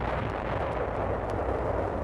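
Shells from La Spezia coastal guns explode nearby in 1945 wartime combat, a dense, rumbling low roar with faint sharp cracks, loud and continuous.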